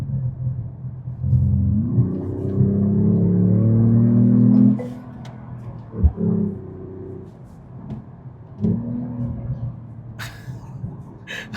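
A Mercedes-AMG E53 in Sport Plus mode accelerates with a deep rising engine rumble that climbs through the gears and then eases off. A thump comes near the midpoint and a second, shorter surge follows, heard from inside the car.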